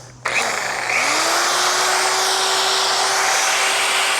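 A 1200-watt electric polisher powered from a 12V LiFePO4 lithium battery switches on with a sharp start, spins up and settles into a loud, steady high-pitched whine held close to the microphone.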